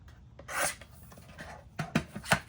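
A paper trimmer slices through card stock with a short rasping stroke, a pause, then a few sharper scraping strokes close by.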